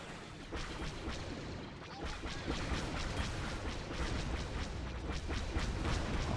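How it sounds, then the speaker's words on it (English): Droid AAT tanks in a Star Wars battle in the strategy game Men of War: Assault Squad 2 blow up amid dense, continuous battle noise, with rapid overlapping booms and crashes throughout. "Oh, look at all the AATs exploding."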